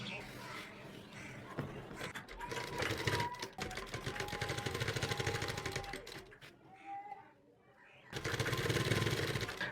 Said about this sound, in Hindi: हमने इस वाले कपड़े पर किनार की सिलाई लगानी है